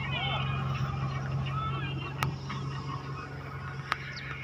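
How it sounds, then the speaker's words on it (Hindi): A tractor hauling a loaded 20-foot trolley up a slope gives a steady low engine drone throughout, with a couple of sharp clanks and voices talking over it. "20 फुट ट्राली भरी है, तो ट्रैक्टर चढ़ाई चढ़ा गई"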